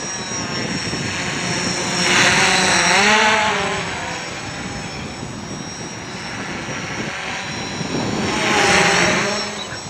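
A quadcopter with a Naza Lite controller, Sunnysky 2212-13 motors and DJI 10x3.8 props flies nearby, its buzzing rotor drone steady and swelling twice as it passes closer.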